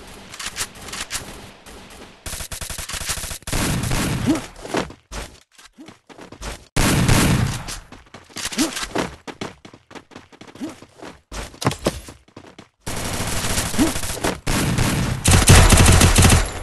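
Bursts of UMP and M1887 gunfire ring out in a mobile shooter game, arriving in loud, separate volleys split by brief quiet gaps, with shots near and far.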